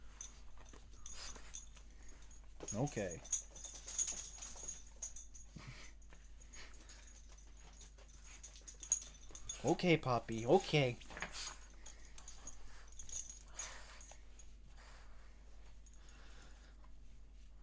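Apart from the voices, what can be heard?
puppy whimpering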